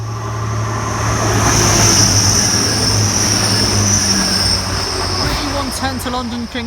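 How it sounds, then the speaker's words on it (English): A train arrives at a station near the Grove Road level crossing, with a loud, sustained rumble of wheels on rails, a high wheel squeal and a horn-like tone toward the end. "Other train just arriving at the station."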